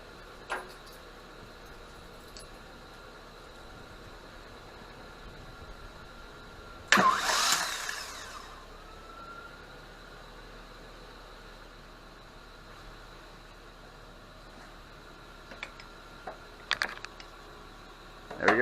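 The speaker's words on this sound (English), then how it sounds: "barely blip the ignition switch, just so it turns over the engine slightly" A car engine, being worked on for crank bolt removal, turns over once in a short, loud ignition blip, followed by a fading whine and then quiet shop ambience with a few faint clinks.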